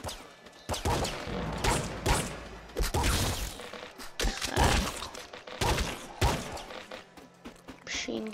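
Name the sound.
machine gun firing in video game Nuclear Throne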